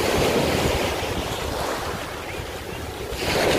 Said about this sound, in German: Ist ein riesiger Strand hier,